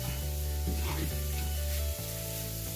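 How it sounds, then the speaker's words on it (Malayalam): Grated coconut sautéing in a pan for a sardine thoran, giving a steady, close sizzle that runs unbroken throughout, with a few faint stirring scrapes and no voices. "കുറച്ച് സമയം കൂടി വഴറ്റിയിട്ട് മീൻ ചേർക്കാം."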